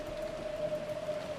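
Steady rainfall from a scene in the Umineko visual novel, an even, continuous hiss of falling water at moderate level with a faint steady tone running through it and no voices.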